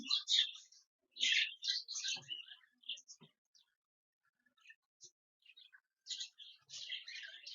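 Bursts of thin, high chirping from budgerigar chicks, close by and in clusters separated by quiet pauses.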